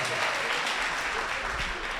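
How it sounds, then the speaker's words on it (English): A crowd applauding steadily, dense clapping filling the room at a constant level throughout. "Another round of applause."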